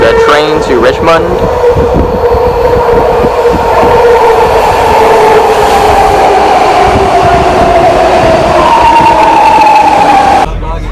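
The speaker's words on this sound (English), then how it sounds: "This is the train to Richmond." A BART subway train bound for Richmond rolls loudly at close range in San Francisco, with a constant roar, rail rumble and a high whining squeal rising and falling, with voices under it.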